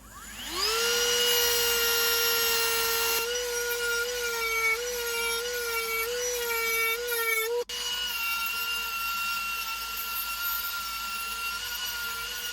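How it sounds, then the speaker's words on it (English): A drum sander grinds a knife blade held at an angle while making a hunting and camp knife, a steady high motor whine that spins up and runs on loudly, with a brief dip near the end. "I'm just hitting it at an angle with the drum sander."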